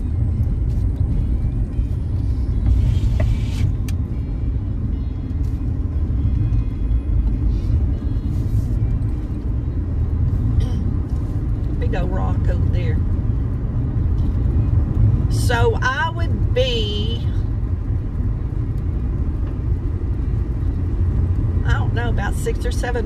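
A car driving on a country road near Mount Enterprise in Rusk County: a steady low rumble of engine and tyre noise inside the cabin, continuous throughout, with a person talking over it.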